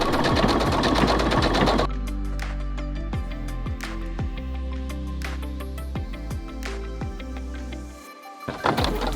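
Electric sewing machine stitching appliqué fabric for a cushion, loud rapid mechanical whirring that stops after a couple of seconds, followed by slower individual needle clunks and a brief pause near the end.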